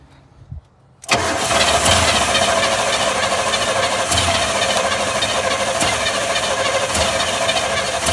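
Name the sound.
car engine cranking and starting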